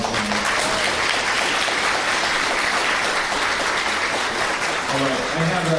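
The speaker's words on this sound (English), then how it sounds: "Let's give our presenters a round of applause." An audience at a conference plenary session applauds its presenters, with dense, sustained clapping that fills the room and holds steady throughout, and a voice emerges briefly near the end.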